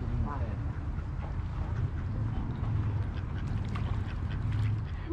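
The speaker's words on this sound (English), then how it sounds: "how do you like the duckies?" Ducks quacking outdoors near water, a steady chorus of calls over wind noise on the microphone and a boat nearby, with people talking softly at times.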